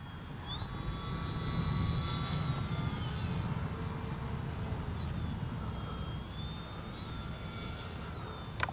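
An H-King Kitfox RC model plane comes in to land on grass. Its electric motor whines steadily and the pitch rises and falls as the throttle changes, over a constant outdoor rumble. No voices are heard.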